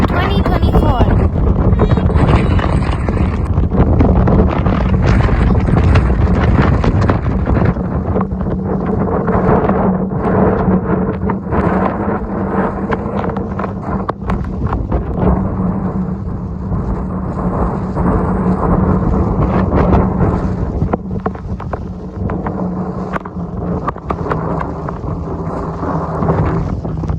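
A winter snowstorm in Ontario roars with loud, constant wind buffeting the microphone, a dense rumbling wash that rises and eases slightly but never stops.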